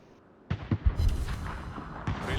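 Naval gunfire in a warship video game: a few heavy booming shots in quick succession followed by rumbling, then another blast near the end, over continuous low game noise with no talk.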